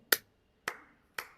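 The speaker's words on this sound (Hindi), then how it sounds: "मैं 3 बार ताली बजाता हूँ" Three sharp hand claps spaced about half a second apart, crisp and fairly close, each fading quickly into a quiet room with no talking.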